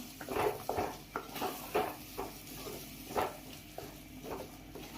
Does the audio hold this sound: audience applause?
no